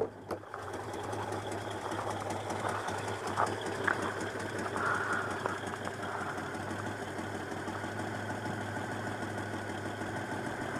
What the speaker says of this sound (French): Le moteur ne vibre pas du tout, d'habitude il a plutôt tendance à vibrer au ralenti, mais là c'est plus le cas.